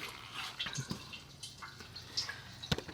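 Transmission fluid drains from the pan of a Jeep Wrangler with a 32RH transmission, falling in faint, irregular drips and small splashes, quiet and close.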